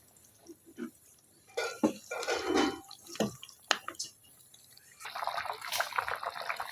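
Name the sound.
water poured into pot of chicken and potato curry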